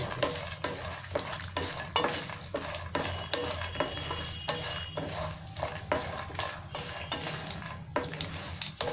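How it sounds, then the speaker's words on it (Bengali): Peanuts, curry leaves and chillies fry in hot oil with a steady sizzle, while a spoon scrapes and stirs the pan in repeated clattering strokes throughout, close and fairly loud. "একসাথেই সবগুলো ভালো করে ভাজা হয়ে যাবে।"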